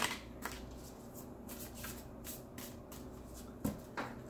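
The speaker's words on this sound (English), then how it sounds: "Shuffle these and see what comes up." A deck of tarot cards is shuffled by hand, a run of soft riffling bursts and flicks in quick succession, close and fairly quiet, with a sharper tap of cards near the end.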